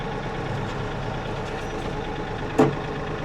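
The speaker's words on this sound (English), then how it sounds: "So now the tractor's moving forward." A Kioti tractor engine idles at a low, steady rumble, quiet and continuous, with a single brief click near the end.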